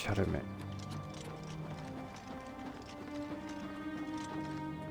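Hooves clip-clop steadily with a light, even rhythm over a busy bed of game music and ambience in The Elder Scrolls IV: Oblivion Remastered, beginning with a brief louder burst.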